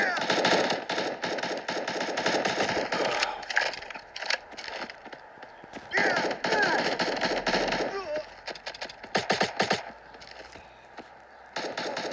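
Rapid video-game gunfire crackles in loud bursts with a grenade blast mixed in, dense and continuous, under excited talking from a player.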